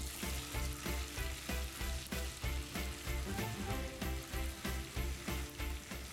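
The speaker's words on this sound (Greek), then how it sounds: "ρίχνουμε μέσα για να τηγανίσουμε λίγο κρεμμύδι ψιλοκομμένο" Finely chopped onion, about a spoonful, fries in butter and olive oil in a pan, giving a loud, steady, crackling sizzle that continues throughout with no voices over it.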